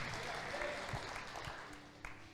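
A church congregation applauds during a Portuguese-language service, a soft, fairly distant patter of many hands with a faint murmur of voices underneath.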